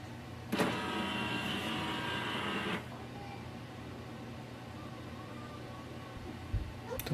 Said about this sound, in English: The printer will restart.